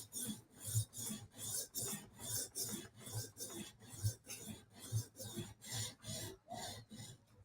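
A Chris Reeve Sebenza knife is sharpened on a TSProf Kadet fixed-angle system, with rhythmic rasping strokes of stone on steel repeating about twice per second, close and steady throughout.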